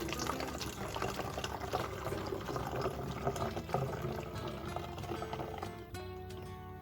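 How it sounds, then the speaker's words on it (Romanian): Milk poured through a funnel into a container, a steady liquid gurgle and trickle running without a break and then easing near the end, with no talk. "Cu ajutorul unei pâlnii voi pune laptele în recipient."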